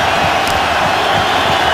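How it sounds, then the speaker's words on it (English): Steady, dense roar of a large stadium crowd at a Buffalo Bills home football game against the Patriots, a continuous loud wash of noise with no break. "this crowd will be in full throat here"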